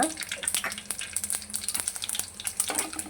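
Mustard seeds and cumin crackle and pop in hot oil while cooking bitter gourd tamarind curry, giving close, sharp irregular pops over a steady sizzling hiss.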